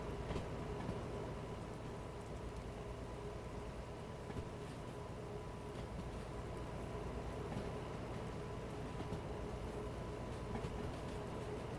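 A hazmat freight train hauled by two locomotives rolls along in the Derail Valley train simulator, a continuous low rumble with steady engine drone, fairly quiet and unbroken.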